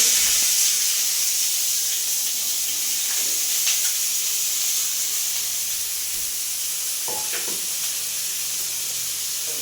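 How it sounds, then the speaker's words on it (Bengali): Bitter gourd sizzling in hot oil in a home kitchen: a continuous bright hiss and crackle, close and steady throughout, with a few faint knocks and stirring sounds and no speech. "তেলটা গরম হয়ে গেছে, এবার আমি উচ্ছেটা দিয়ে দিচ্ছি"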